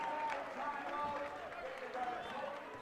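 A loud home crowd at a men's college basketball game between the Pointers and Oshkosh, roaring and cheering continuously with clapping mixed in and a commentator talking over it.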